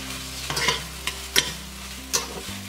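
Pumpkin alfredo mixture stirred in a pan, with several distinct scraping strokes of a utensil over a soft background hum, close and fairly quiet, no talking.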